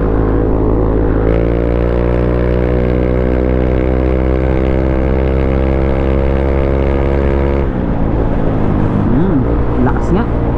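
A Yamaha Mio i 125 scooter engine runs steadily and loud on a road test, its drone holding a fairly even pitch before dropping and settling into rougher idle-like rumble near the end.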